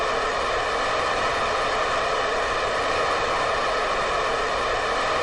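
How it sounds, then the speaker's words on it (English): Rocket engines firing in Kerbal Space Program give off a steady, unbroken roar that holds at an even loudness for the whole stretch, with no voices over it. "Oh, those are noisy. I'm hoping these engines aren't going to be problematic."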